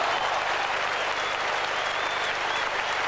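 The crowd at a 1978 Australia versus England cricket match in Brisbane applauds, a broad, steady wash of distant clapping from a large stadium audience that keeps up at an even level throughout.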